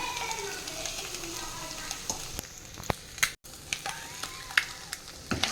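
Boiled eggs tipped into curry masala frying in a pan, a steady close sizzle with scattered sharp crackles and a few stirring clicks.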